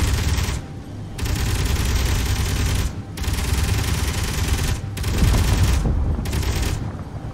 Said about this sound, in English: Oh shit, he's still shooting.